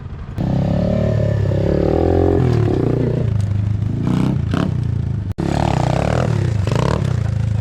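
The engine of an Apollo DBX15 Chinese pit bike revs loudly and close up as the clutch is dumped, its pitch rising and falling over several seconds, with a brief cutout partway through.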